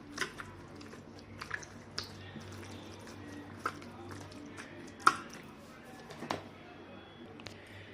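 Roasted eggplant is mashed with onion, garlic and mustard oil, giving quiet, wet squishing and soft sticky taps at an irregular pace. One sharper squelch stands out midway against a faint background hum.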